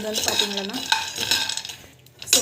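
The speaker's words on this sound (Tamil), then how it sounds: "நல்லா வந்து அப்படி வதக்கி விட்டுக்கணும்" Peanuts being sautéed and stirred in a pan, a spoon scraping and clinking against metal in quick irregular strokes with a faint sizzle underneath.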